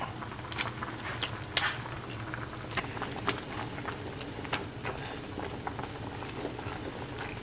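Noodles boil in a pot with a continuous low bubbling, scattered sharp pops and crackles over a soft steady wash, fairly quiet and close, with no voices.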